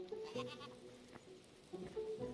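Sheep in the video game Hytale bleat faintly in a few short wavering calls, over a quiet in-game background, alone without talk.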